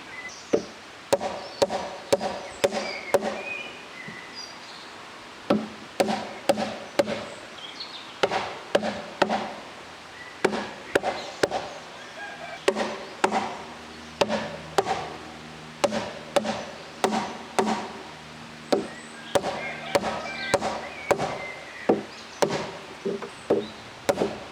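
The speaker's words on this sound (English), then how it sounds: "you can then tap the post down using a mallet" Wooden monkey bar post being tapped down into the ground with a mallet, a steady series of sharp knocks repeating roughly every half second, close and fairly loud with no talk.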